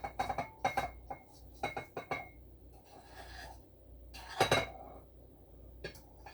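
Cooked meat for a half-meat, half-cheese lasagna is scraped from a pan into a bowl, with sharp metal-on-dish clinks and scrapes coming in uneven close bursts.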